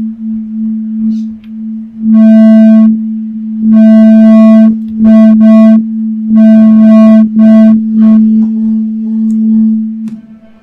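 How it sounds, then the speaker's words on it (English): Steady electronic sine tones sound in a sequence of sustained notes over a constant low hum, loud and clean with no voices. "I have the sine tone nodes that I can show you"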